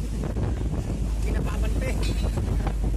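Strong monsoon wind roars and buffets steadily throughout, over a low continuous rumble of a passing cruise ship, with faint voices under the noise.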